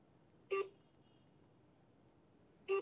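A telephone line rings while a call tries to connect, giving two short electronic ring bursts about two seconds apart with near silence between them.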